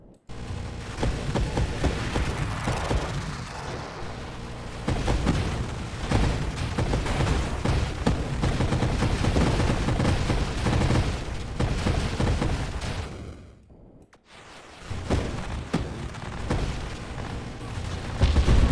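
Sustained video game gunfire from a Barrage build in Mayhem draft mode, a dense continuous barrage of shots and booms, loud throughout with a brief dip near the end before the firing resumes.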